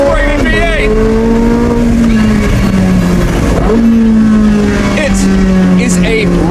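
A Porsche 918 Spyder's race-derived naturally aspirated V8 revs loudly while driving with the roof off, its engine note rising and falling through gear changes for several seconds, close and continuous.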